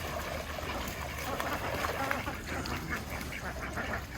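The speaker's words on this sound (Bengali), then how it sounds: "এটা হলো ঝিন্ডিং জাতের হাঁস" A dense, continuous chorus of quacking from a flock of Jinding breed ducks, some mixed with Khaki Campbell, on a duck farm; the overlapping calls run steadily throughout at close range.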